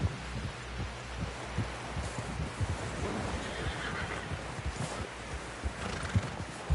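Horse in the video game Red Dead Redemption 2, a soft rhythmic clip-clop of hooves plodding at a steady pace, faint and close, with low ambient rumble underneath.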